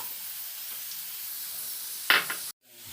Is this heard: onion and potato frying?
yes